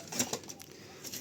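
Domestic pigeons in a home loft give short soft coos, a couple of brief faint calls close by over quiet background.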